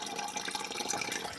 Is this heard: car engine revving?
no